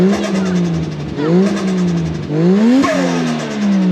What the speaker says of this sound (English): I can rev it.